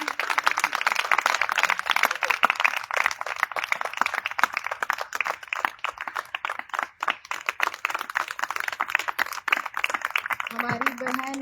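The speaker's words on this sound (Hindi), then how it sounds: "तालियां बजती रहें।" Audience clapping at a yoga institute's 60th foundation day celebration in a park, a sustained crisp patter of many hands with speech mixed in near the end.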